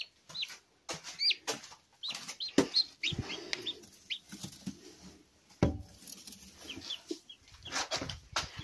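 Chick peeping repeatedly in short, high chirps close by, with soft pattering and rustling between calls and no talking.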